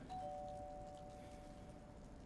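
A faint electronic doorbell chime in a horror video game (Fears to Fathom) rings once with a steady sustained tone over a low background hum.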